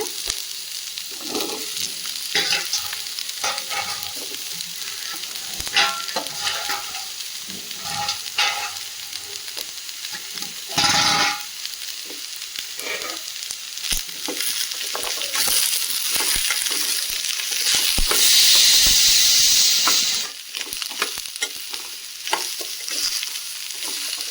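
Large slices of peeled pumpkin fry in a pan for poriyal. A continuous close sizzle runs under repeated scraping strokes of a stirring spoon, swelling to a louder hissing burst near the end, with no talk.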